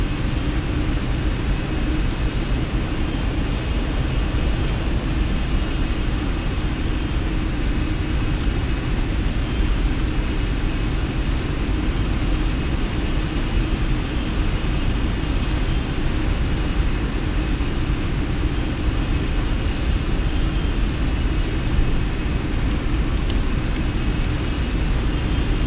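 Boeing 747-8 jet engines spool up before takeoff on a Heathrow to Vancouver flight, producing a loud, unbroken roar heard from inside the aircraft, with faint high-pitched whines and clicks over it.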